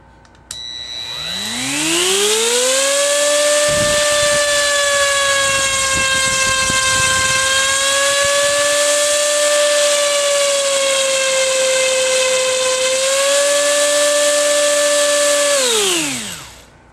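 A T250 RC helicopter rotor with stock Align grips and 37mm Align blades spinning up to 19,000 RPM, a loud rising whine that holds a steady high pitch, wavers slightly, then winds down at the end.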